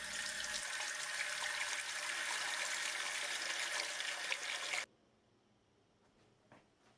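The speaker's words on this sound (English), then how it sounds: "we're going to put water in the water pan" Steady rushing pour of cold water into the water pan of a steam juicer for several seconds, stopping abruptly, followed by quiet with a faint drip or clink.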